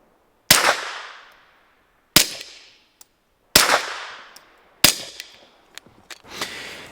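Four suppressed 9mm shots from a Glock 19 fitted with a SilencerCo Omega 9K and firing subsonic ammo, each a sharp, close crack with a short decaying tail, followed by clinking brass and light handling noise.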